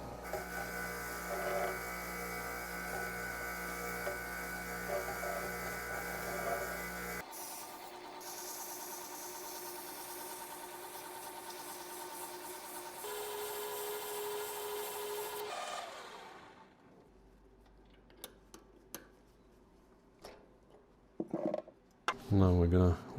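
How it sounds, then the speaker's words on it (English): Lathe spinning a Triumph TR6 flange while its surface is polished, a continuous close whirring and rubbing hum that shifts in tone partway, then winds down to quiet with a few handling knocks at the end. "we're gonna put it on the lathe and we're gonna clean it up and polish this surface"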